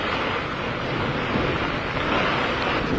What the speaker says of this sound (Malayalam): വളരെ വലിയ രീതിയിൽ കാറ്റ് വീശുന്നുണ്ട്.